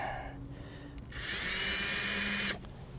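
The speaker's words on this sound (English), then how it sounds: "Just gonna drill in this bottom one." A power drill bores into a cockpit hatch, a short low whir spinning up into a loud steady high whine for over a second, then cutting off.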